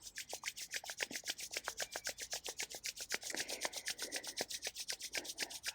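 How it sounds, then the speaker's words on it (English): Two hands rubbing briskly together during a morning qigong routine, a steady rhythmic rasping swish repeating many times, close and fairly quiet with no talk. "Rub your hand one more time."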